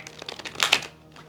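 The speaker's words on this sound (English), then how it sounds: "I'm going to attempt to shuffle this deck for you." Tarot deck being shuffled by hand, a rapid flurry of close papery card flicks building to a brief louder riffle, then fading out.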